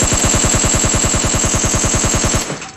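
Rapid automatic gunfire in a battle-royale style video game with a Kar98 rifle in play, a loud continuous burst of evenly spaced shots for over two seconds before cutting off abruptly.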